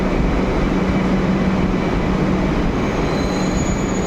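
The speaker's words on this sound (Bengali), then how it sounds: "ফাইনালি আমাদের মেট্রো চলে এসছে" A metro train arriving at a station in Kolkata rumbles steadily with a broad, continuous roar, faint squeal of wheels rising near the end, loud and close throughout.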